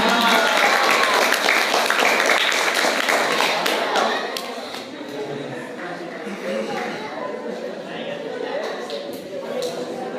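A crowd at a Ramadan iftar gathering applauds loudly, the clapping gradually softening into a quieter, sustained patter with murmuring voices underneath.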